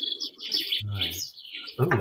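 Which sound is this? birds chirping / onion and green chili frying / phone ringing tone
birds chirping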